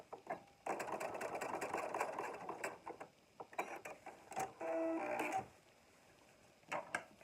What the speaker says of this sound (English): I'm going to sew closed that opening that I created with my seam ripper